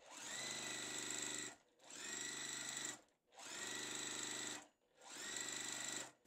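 A sewing machine stitches fabric squares for a quilt block in four steady bursts of whirring, each about a second long, separated by brief pauses.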